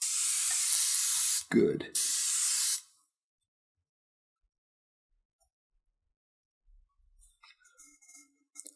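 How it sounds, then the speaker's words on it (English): A spray bottle misting a watercolor palette: two bursts of fine hissing spray in quick succession, close and loud, then quiet with faint handling noises. "Time to mist my palette."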